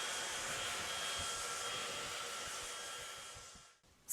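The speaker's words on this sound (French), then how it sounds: "C'est bon, j'ai fini de me sécher les cheveux." A hair dryer blows steadily while drying hair, a loud continuous airy whoosh that fades away and cuts off near the end, with no voices.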